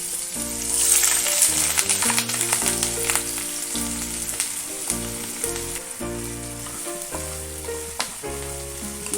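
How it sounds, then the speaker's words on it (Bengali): Onions added to hot oil fry with a loud, steady sizzle and crackle, while music with a repeating bass line plays throughout. "এবার পেঁয়াজ দিয়ে দিচ্ছি।"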